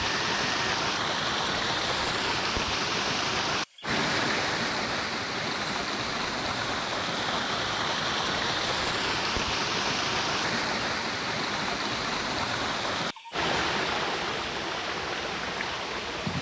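Paloor Kotta waterfall near Perinthalmanna runs at low water, giving a steady, dense broadband rush of falling water that fills the whole span, with two brief dropouts and no voices.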